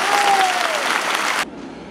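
A crowd at a municipal thank-you ceremony applauds in a dense, even burst after a brief vocal tone, then the clapping cuts off abruptly near the end.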